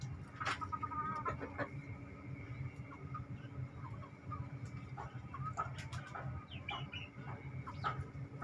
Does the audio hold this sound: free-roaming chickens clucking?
yes